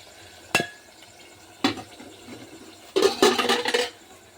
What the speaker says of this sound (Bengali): চামচটা মাটিতে ফেলে দিছি